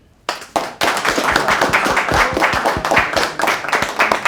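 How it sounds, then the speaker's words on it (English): An audience claps at a science fair event, a steady burst of many hands clapping close and loud for several seconds, with little talk. "Where's our clap at?"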